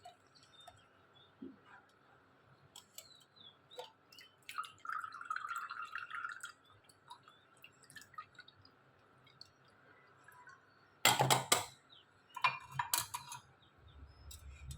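An amla and ginger drink strained through a sieve, a quiet trickle and drip with scattered light clinks of utensils and a louder burst of clattering metal near the end.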